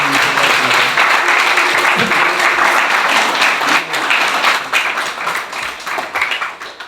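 A church congregation applauds in praise, a dense, sustained round of clapping that stays strong for several seconds before thinning and tapering off toward the end.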